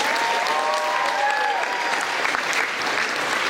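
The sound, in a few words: applause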